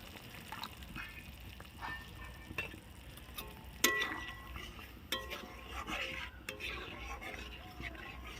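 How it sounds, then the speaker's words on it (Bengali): Coconut milk goes into a prawn malai curry in a pan and is stirred. Soft liquid sloshing mixes with scattered utensil clicks and clinks, with one sharper knock midway, all close and fairly quiet. "যে নারকেলের দুধটা রেখেছি এবার দিয়ে দিচ্ছি।"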